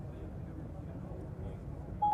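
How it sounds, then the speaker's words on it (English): Siri places a phone call through Apple CarPlay in a Volvo Concept Estate: a steady call tone starts near the end over a low, constant cabin hum. "So we can see that we can use Siri to initiate the call."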